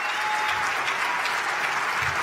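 Steady applause from an audience at a policymakers' plenary session, an even wash of clapping hands heard throughout the brief stretch.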